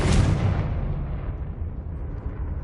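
A Confringo blasting spell detonates in a Harry Potter video game, a loud, close explosion with a deep rumbling burst that slowly fades away.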